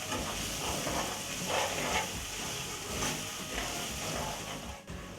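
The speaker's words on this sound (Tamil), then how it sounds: "இது ஒரு 3லேருந்து 4 நிமிஷம் வரைக்கும் வதங்கணும்" Ingredients sauté in a pan with a soft, continuous sizzle and occasional stirring scrapes, fairly quiet and steady, with no voices.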